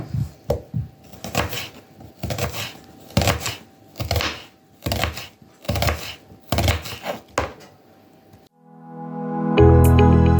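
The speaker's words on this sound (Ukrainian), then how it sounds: "Очищену цибульку нарізаємо на пів кільцями" A knife slicing a peeled medium onion into half rings on a wooden board: a brisk, even run of about a dozen sharp chopping knocks, close and clear, ending as a pan starts to sizzle.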